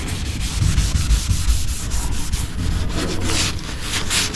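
Sandpaper is rubbed by hand over a car body panel before spray painting, making close, rhythmic scratchy strokes in a steady back-and-forth series.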